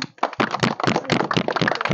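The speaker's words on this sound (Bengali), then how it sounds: "হাততালি দাও, সবাই হাততালি দাও।" Small village children clap their hands in quick, uneven bursts, a dense crackling patter of close sharp claps that keeps going throughout.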